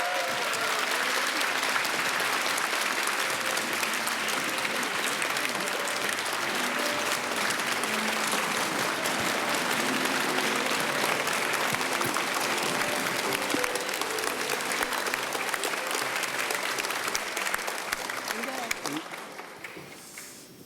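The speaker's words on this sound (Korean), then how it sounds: "여러분 큰 박수로 앞으로 모시겠습니다." Audience applause at a large televised presidential anniversary event in Korea, sustained dense clapping from a big crowd filling the hall, holding steady and then fading toward the end.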